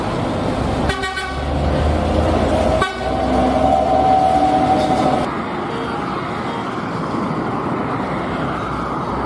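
Horn of a C01 locomotive sounds in two short toots followed by a longer sustained blast, loud and fairly close over steady rail and engine rumble.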